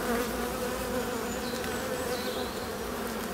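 Honeybees swarm around a hive in an apiary, giving a dense, steady buzz close by. Individual bees whine past over the constant hum, with no talk.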